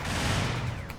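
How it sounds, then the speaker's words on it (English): Long-range Zaku machine gun fire in a Gundam video game, one brief dense rattling burst, loud and booming with a ringing tail, no voices. "a long-range Zaku machine gun to just pepper this poor bastard"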